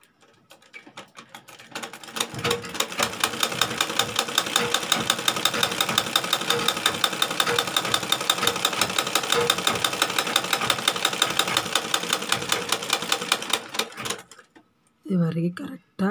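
A sewing machine stitches fabric in a fast, steady, mechanical chatter that runs loud and unbroken for about twelve seconds, then stops, and a voice speaks briefly at the end.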